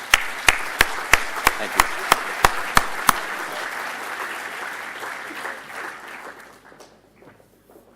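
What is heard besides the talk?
conference audience applauding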